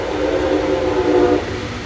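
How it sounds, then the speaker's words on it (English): Brightline passenger train passing at speed in Melbourne, Florida, a loud, close, steady roar of rushing wheels and air that fades slightly at the end of a brief two-second burst. "Wow, that train's moving."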